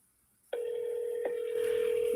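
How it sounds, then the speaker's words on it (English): A telephone ringback tone sounds during an outgoing call, starting abruptly after a short silence and holding as one steady, loud tone that continues alone to the end. "Oh, it's ringing."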